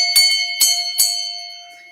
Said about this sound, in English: it's a little bell, not very big